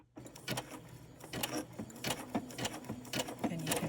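A sewing machine runs a zigzag stitch in a quick, steady mechanical rhythm of needle clatter and motor hum. It is close but fairly soft, with no speech.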